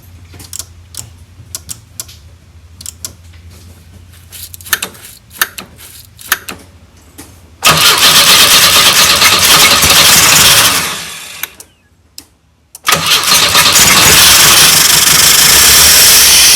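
A Pontiac Fiero left sitting for 30 years cranks with a rapid ticking starter rhythm, then roars loudly to life, fades out, and fires up again at full volume, close to the listener.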